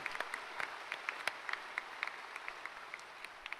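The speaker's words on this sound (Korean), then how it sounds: "박수하겠습니다" A church congregation at a special dawn worship service applauds visiting leaders from many countries, with scattered individual claps standing out over a soft background of clapping, fairly faint and distant.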